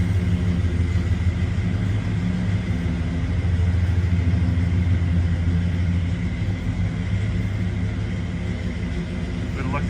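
A classic Custom Deluxe car pulls away at a classic car showroom, its steady mid-range engine rumble loud and continuous for the whole stretch, close by and unbroken.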